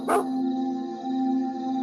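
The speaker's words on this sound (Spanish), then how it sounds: "Ladraron los perros." A dog gives one short, sharp bark that rings over a sustained droning tone, then falls silent.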